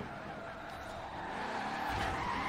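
Car tyres squeal and skid in a sustained drift in Forza Horizon 4, a steady loud screech with engine roar underneath that swells slightly toward the end.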